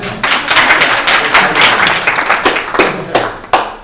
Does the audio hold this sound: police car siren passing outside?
no